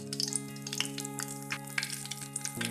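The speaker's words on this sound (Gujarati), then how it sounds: "હવે તે જ તેલની અંદર આપણે હિંગ એડ કરીશું." Asafoetida is dropped into hot oil in a pan while cooking a brinjal curry, giving a steady close sizzle with light crackling pops over a constant low hum.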